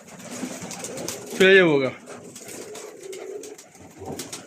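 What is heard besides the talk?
pigeons cooing in a loft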